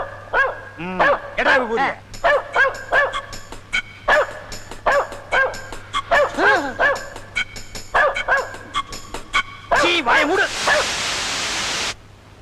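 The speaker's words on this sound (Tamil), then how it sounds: "அதுதான் நாய் குலைக்குது" Repeated loud barking from a nearby dog, rapid bursts spread throughout, ending in a wash of static-like noise.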